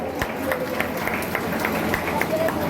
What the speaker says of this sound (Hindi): एक बार इनके सम्मान में जोरदार तालियां बजाओ